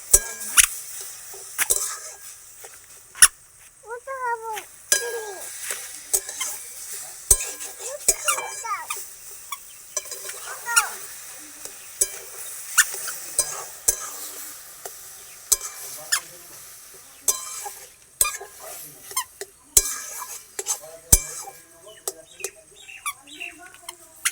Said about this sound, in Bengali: নেড়ে নেবো সিদ্ধ হওয়ার জন্য।